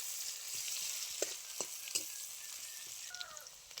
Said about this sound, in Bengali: দিয়ে দিচ্ছি আমি তেলের মধ্যে পেঁয়াজ কুচি পরিমাণ মতো।